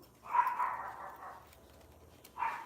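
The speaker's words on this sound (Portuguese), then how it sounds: "não repare, mas é meus cachorros" Several household dogs barking on a residential street with a school nearby, two bursts of sharp yapping barks separated by a brief lull, moderately close.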